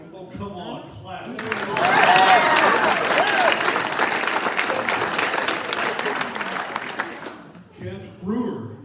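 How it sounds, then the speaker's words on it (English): Applause from an audience at a Texas plein air art awards announcement rises after brief talk, swells into steady clapping, then fades as a speaker resumes talking. "Oh, come on, clap."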